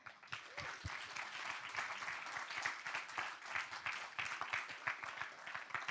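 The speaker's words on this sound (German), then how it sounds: "Und geben wir ihnen doch einfach noch einen warmen Applaus." A congregation at a German mission church service gives a warm round of applause: soft, fairly distant clapping with a ragged, uneven rhythm, rising slightly and continuing throughout.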